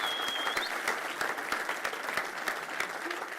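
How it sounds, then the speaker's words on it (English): Steady audience applause at a business conference on geopolitics and sustainability transitions, dense and sustained clapping from a crowd throughout, moderately distant. "A round of applause to the speakers."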